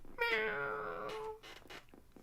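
A cat meows once in a long drawn-out, slightly wavering cry, close and clear, followed by a few softer short sounds, played as an alert during a livestream.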